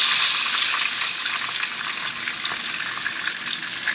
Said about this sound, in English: we can finish frying up the other batch